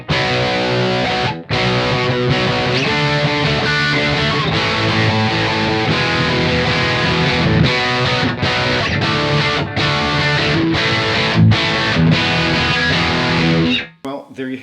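An electric guitar through a Vox amPlug headphone amp, tone control set fully muddy, plays a series of dull, bass-heavy chords and notes with a dark, muffled tone, briefly pausing before a short cutoff at the end.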